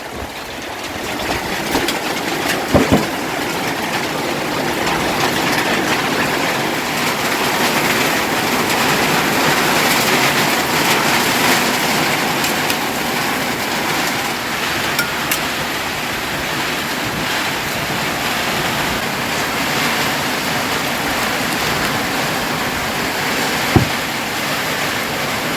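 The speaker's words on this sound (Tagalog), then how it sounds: "Kaya medyo malakas ng ulan." Heavy rain pours down in a steady, loud hiss that fills the whole stretch, with a couple of sharp knocks standing out briefly.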